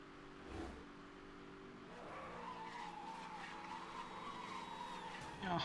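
Tires skid and squeal as a car drifts in Need for Speed Hot Pursuit, a sustained screech over a steady engine drone, fairly faint, with a louder burst at the end and no talk.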